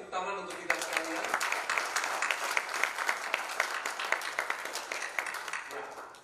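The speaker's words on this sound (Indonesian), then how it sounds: "Boleh kita beri tepuk tangan untuk kita sekalian?" Church congregation giving a round of applause, dense hand clapping that starts after a brief voice, holds steady near and loud, then tapers off as a voice returns at the end.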